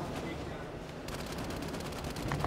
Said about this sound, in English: that's two people who be shooting me at the same time